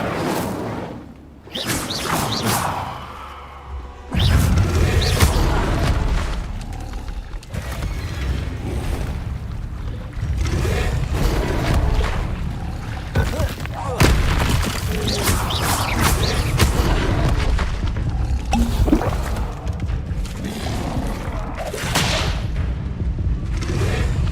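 Fire spells cast in Hogwarts Legacy burst out as repeated whooshing blasts and booms, loud and close, coming one after another with brief gaps over game ambience.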